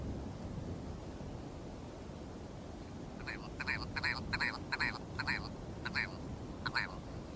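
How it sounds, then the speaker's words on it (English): A rock ptarmigan calls from high mountain rock: a series of rapid, harsh croaking pulses over steady wind noise, coming in several bursts after a few seconds of wind alone. "the rock ptarmigan."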